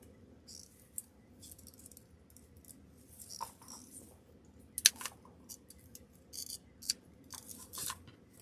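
Scissors snip through craft stems for a scarecrow candlestick centerpiece, a few sharp, close cuts scattered among quiet handling clicks and rustles.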